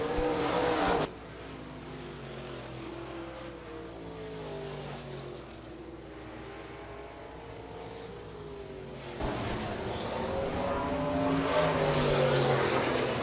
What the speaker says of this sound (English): USRA Stock Cars heat race number 1